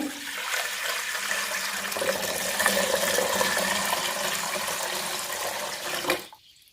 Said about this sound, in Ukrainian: У горниць наливаю воду.